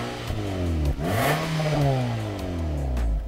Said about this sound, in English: Hear that? Sort of a faint diesel-like sound.